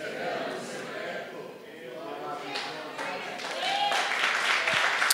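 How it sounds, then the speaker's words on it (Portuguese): A church congregation applauds during a conference sermon, with the crowd noise building toward the end under a speaking voice. "Se for para o Senhor, você pode aplaudir com mais garra."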